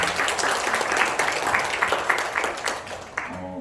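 An audience claps through a Korean community event, a dense, steady round of applause that fades toward the end, with scattered voices in the room.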